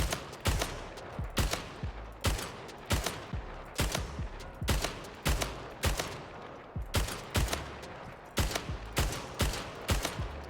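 Gunshots in the video game Splitgate ring out in a steady rhythm, sharp single cracks fired about every half second across the whole stretch, close and distinct with little else around them.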